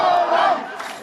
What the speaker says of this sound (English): Now you can hear them shouting in the background.